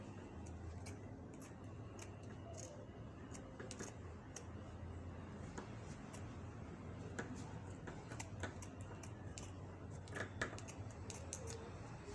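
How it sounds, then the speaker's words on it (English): Scissors snipping through fabric to cut the length for a self-drafted top, producing a quiet run of light, irregular clicks and snips over a steady low room hum. "So we go ahead and cut the length."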